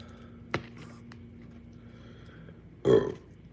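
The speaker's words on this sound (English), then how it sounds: "there's the burp" A single short, loud burp erupts after a meal, preceded by a faint tap in an otherwise quiet room.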